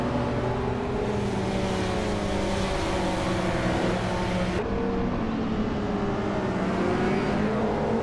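Several race cars in a nonstop race after the start, a steady dense engine drone with overlapping tones shifting in pitch as they jostle for position, loud and continuous throughout.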